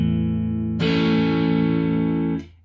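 An electric guitar with effects and distortion plays a major chord from a song: low notes ring first, then the full chord is strummed and sustains brightly before cutting off.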